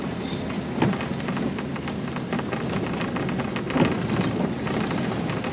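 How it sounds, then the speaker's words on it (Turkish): Summer rain falls steadily near Çorlu in Turkey, a continuous close hiss of drops on surfaces with a few louder pattering bursts and no voices. "Abi işte yaz yağmuru yani."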